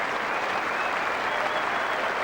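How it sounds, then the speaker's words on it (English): A cricket crowd at Headingley applauds a batsman during an Ashes Test match in 2001, continuous dense clapping from a large stadium audience, loud and sustained throughout. "this Headingley crowd are standing to him"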